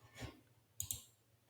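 A computer mouse gives two quick, crisp clicks in close succession, faint and near, set against a quiet room.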